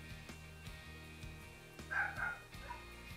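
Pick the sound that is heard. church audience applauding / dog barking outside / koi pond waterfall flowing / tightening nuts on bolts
dog barking outside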